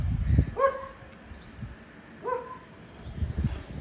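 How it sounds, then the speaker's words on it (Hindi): Dogs at a family home bark twice, two short sharp barks about two seconds apart, fairly close against a quiet background. "हाँ ये अभी ऐसे भौंक रहे हैं"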